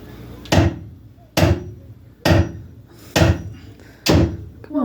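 A hammer strikes five times at an even pace about once a second, each hit a loud sharp thud with a short ringing decay, close by with no talk between blows.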